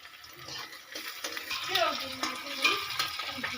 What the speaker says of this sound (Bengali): পেঁয়াজ আর কাঁচা লঙ্কা দেওয়া হয়ে গেছে, ভাজা হতেছে এখন